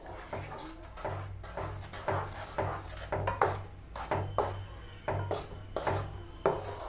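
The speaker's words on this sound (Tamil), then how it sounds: "அதே நெய்யில் அரைச்சி வச்சுருக்க பெருச்சப்பழத்தை சேர்த்துக்கலாம். நல்லா மிக்ஸ் பண்ணி விடுங்க." Ground dates stirred into ghee in a pan for halwa, with a spoon scraping and knocking against the metal in steady, repeated strokes, fairly close and quiet, with no talking.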